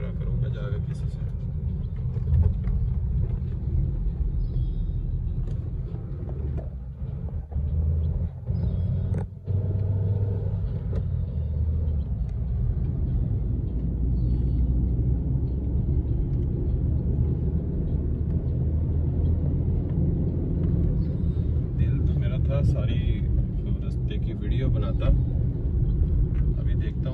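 A car engine rumbles steadily from inside the car while driving on the road to Rawalakot, a low continuous drone under someone speaking for most of the stretch.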